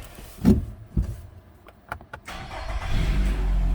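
A car with about 102,000 kilometres on it starts up: a few clicks and a brief crank, then the engine catches and settles into a steady idle close by, with no talk.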